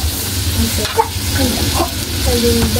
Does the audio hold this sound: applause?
no